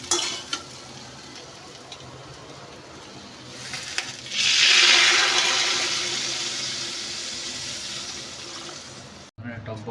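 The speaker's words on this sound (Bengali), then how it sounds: "এবার এটাতে আমরা জল দিয়ে দেবো" Water poured into a pan of potatoes fried with spices for an egg curry, a loud rushing pour with sizzling that starts midway and gradually fades, over earlier background kitchen noise.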